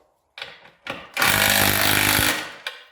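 A power driver gun drives fasteners into a bench board against a masonry wall, with short bursts building to a long, loud rattling run that strains before stopping, heard up close.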